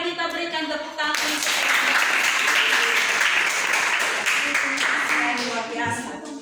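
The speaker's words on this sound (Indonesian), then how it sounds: "Mari kita berikan tepuk tangan" After a class group presentation, a teacher's voice is followed by a sudden burst of students clapping together that fills the room for several seconds, then fades as talk resumes.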